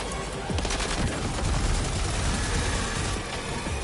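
Assault rifle fire in the video game Death Stranding 2: a dense, rapid burst of shots running steadily for several seconds, loud and close, with no talk.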